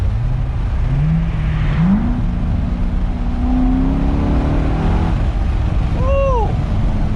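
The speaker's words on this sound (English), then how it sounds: "Let me hit a little downshift real quick." A C6 Corvette with an LS3 V8 revs hard on a downshift, its pitch climbing in steps through several blips while the car rolls along, loud and close with no voices over it.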